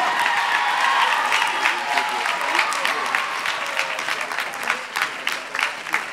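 Audience applause for junior dance winners at a dance competition's nationals awards, a dense, sustained clapping from a large crowd that thins slightly toward the end.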